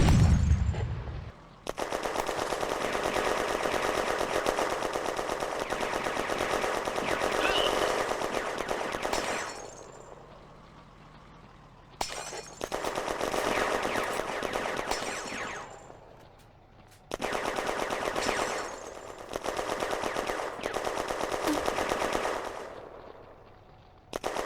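Sustained machine gun fire in a World War II tactics game set at a 1940 crossroads battle, loud and continuous in long bursts separated by short pauses, with artillery-like booms mixed in and no talk.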